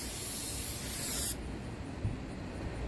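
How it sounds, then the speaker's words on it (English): An aerosol spray can lets out a loud, steady hissing burst for just over a second, then cuts off sharply, leaving quiet room noise, during a wooden dollar-tree Home Depot DIY craft. "So I could start like right away as soon as I spray it."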